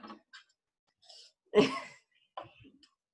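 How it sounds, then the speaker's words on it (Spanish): A cat gives a few short, raspy coughing bursts with brief pauses between them, one louder hack in the middle, heard close and alone. "mi gatita está tosiendo"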